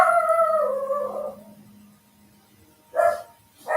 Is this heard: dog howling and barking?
yes